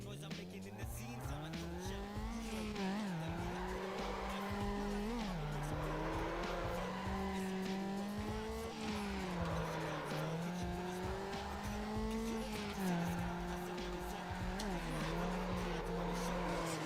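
Car tires squeal under braking in a racing video game, a sustained, loud screech layered over a steady whining engine tone that rises and dips for about seventeen seconds without a break.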